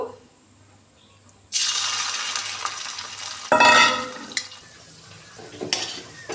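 Bora fritters frying in oil: a quiet start gives way to a sudden loud sizzle with stirring and clinking, then a burst of crackle around the middle, settling to steady hissing with occasional sharp knocks.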